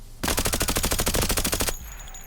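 A VSS/VAL rifle firing SP6 9x39 rounds at a wall in Escape from Tarkov: a rapid full-auto burst of about twenty evenly spaced, loud close shots lasting roughly a second and a half, then faint ringing.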